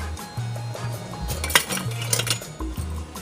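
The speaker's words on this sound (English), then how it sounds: "I'm just going to give my butter a little stir just to move it along, make sure everything's incorporated" A utensil stirs melting butter in a pan for a chocolate Guinness cake, making repeated close metallic scrapes and clinks against the pan in an uneven rhythm over a low hum.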